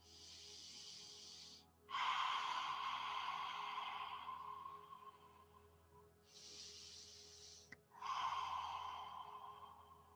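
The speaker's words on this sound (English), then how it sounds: "Let's take 2 more lion's breaths." Forceful open-mouthed lion's breath exhalations from a yoga practitioner in a gentle hip-focused class, two long breathy rushes each followed by a softer hissing sigh, close and clear, with no talk.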